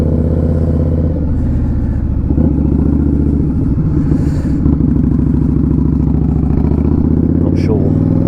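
An Indian Scout Bobber motorcycle cruises along countryside roads, a loud, steady low engine drone with throbbing pulses and wind rush, heard close from the rider's seat.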